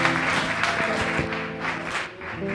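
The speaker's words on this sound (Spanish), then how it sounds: "Le damos un fuerte aplauso" Applause fills a church congregation, steady dense clapping with crowd noise and a sustained musical tone beneath, continuing without pause and dipping briefly near the end.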